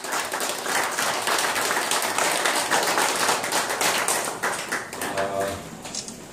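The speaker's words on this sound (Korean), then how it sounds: "박수로 맞아주세요." An audience at a Korean history lecture event in Seoul claps to welcome the lecturer, sharp individual claps merging into moderate applause that thins and fades toward the end, with faint voices underneath.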